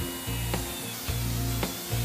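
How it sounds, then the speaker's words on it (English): A low-speed drill turning clockwise reams through an injury in a radial truck tire from the inside, giving a rough grinding hum with rhythmic rubbing strokes repeated about every half second, close and steady. "begin drilling from the inside of the tire with the drill turning in a clockwise direction"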